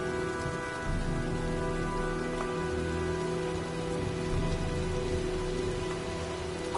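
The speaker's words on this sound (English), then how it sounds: "Well, looks like a storm's coming." Heavy rain pours steadily in a stormy scene from the video game Heavy Rain, a dense, even hiss of falling water with faint low rumbles underneath and no voices.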